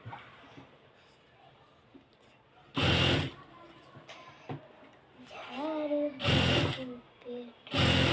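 A home sewing machine runs in several short bursts, loud and close, as it stitches hijab fabric, with someone speaking between and around the runs.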